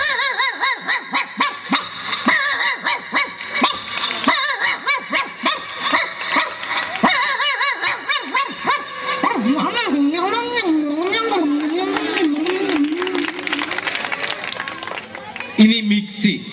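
A performer on a comedy stage imitates a native street dog barking, with choppy bark-like vocal bursts giving way to a wavering howl, heard up close over occasional audience laughter.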